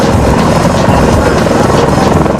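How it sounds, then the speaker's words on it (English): A helicopter hovering over Humvees for a load lift, its rotor chopping loudly and steadily up close, a dense continuous thrum with no pauses. "we'll approach the Humvees and hover over them"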